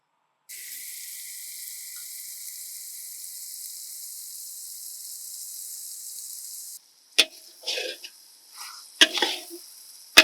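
Ground spice pastes of coriander, fennel, turmeric and chilli hitting a hot pan for a spicy egg masala curry, giving a steady loud sizzle that cuts off, followed by scattered clatters and stirring scrapes.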